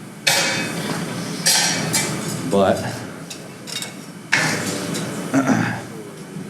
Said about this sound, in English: hammering the front of the drift actually gets it out every time